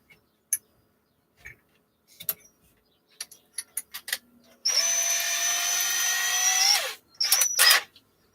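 A power drill bores a hole with a size 7 bit through plywood in a workshop, a loud whining burst of about two seconds, then a shorter second burst, amid scattered clicks and knocks.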